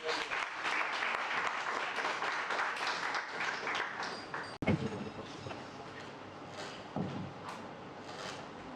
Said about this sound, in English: slightly more enthusiastic round of applause